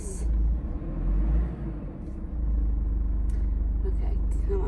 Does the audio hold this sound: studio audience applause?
no